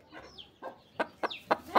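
Young hens cluck at home in a series of short, close, fairly soft calls, about five or six quick clucks in under two seconds.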